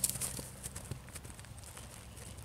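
A calm black work horse walks with hooves clip-clopping in an even rhythm, faint and somewhat distant, over a quiet outdoor background with no talking.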